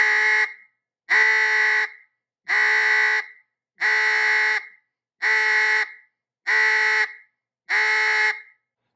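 A duck call blown in short broken segments: seven even, loud, reedy quacking notes about a second apart, clear and close with gaps of silence between them, no talk.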